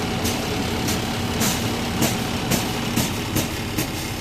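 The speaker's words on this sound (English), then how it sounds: "I'm going to go ahead and start the bus." A heavy diesel bus engine rumbles steadily at idle after starting, loud and close, with a rhythmic knocking pulse repeating about twice per second.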